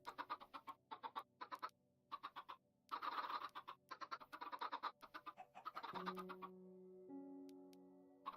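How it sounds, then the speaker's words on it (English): Chickens in Minecraft Java Edition, a string of short clipped clucks and squawks in quick bursts, close and distinct, with a few longer tonal notes near the end. "Why am I hearing other chickens? Because there's a chicken right there."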